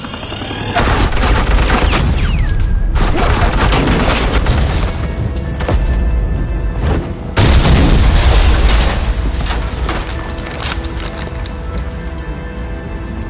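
Suppressing gunfire and explosions in The Batman Telltale video game: loud, sustained bursts of rapid automatic fire and booms, broken by a couple of short pauses before the barrage resumes.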